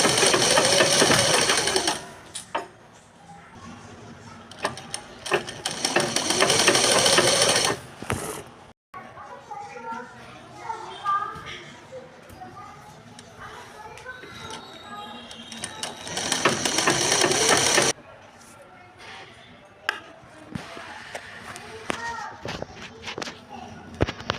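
A sewing machine stitches tucks on a blouse in two loud, fast-whirring bursts of several seconds each, separated by quieter handling of the cloth while someone talks over it.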